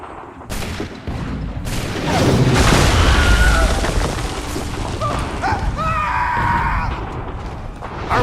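Artillery explosions in Assassin's Creed III Remastered near Bunker Hill, a sustained loud rumble of booms and blasts with crashing debris, close and dense, with voices shouting over the battle.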